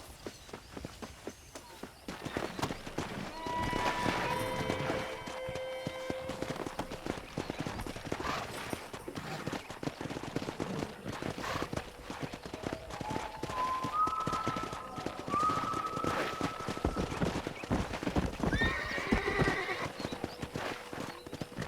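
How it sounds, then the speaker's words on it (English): Red Dead Redemption video game audio: hooves clip-clop rapidly in a steady galloping rhythm while horses neigh and whinny repeatedly over it, fairly close. "Let's see if we can't wrangle some horses."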